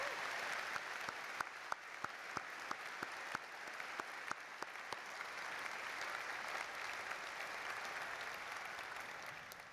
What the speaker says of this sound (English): Let's have a round of applause for our impressive alumni recipients.